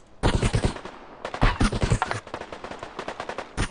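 Bursts of automatic gunfire and bullet impacts landing nearby in the survival shooter Deadside, sharp rapid shots clustered in two or three volleys, loud and close with no talking.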